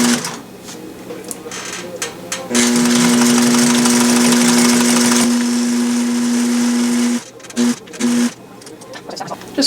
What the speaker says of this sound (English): So now we're just going to sew here.